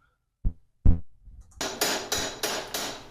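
A hammer strikes a stem in a run of sharp, close impacts: two separate knocks, then a quicker series of four or five ringing blows with bright metallic attack, each standing alone with no talk over them.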